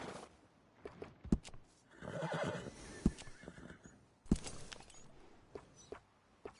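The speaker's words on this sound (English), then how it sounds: "That horse will look after you." A horse whinnies in a video game, a loud sustained neigh in the middle, with sharp hoof thuds and clops scattered around it and no voices.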